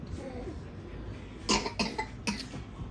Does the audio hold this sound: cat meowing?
no